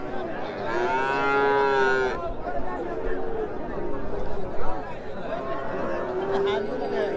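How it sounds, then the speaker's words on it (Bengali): Cattle and calves low and moo repeatedly at a large cow market in Greater Mymensingh, long bellowing calls rising over a constant crowd babble and people talking nearby. "এই যে দেখতে পাচ্ছেন প্রচুর পরিমাণে বাছুর গরু।"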